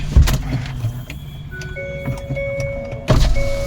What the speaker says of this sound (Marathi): काचा खाली घेऊन ठेवतो म्हणजे लॉक नाही व्हायची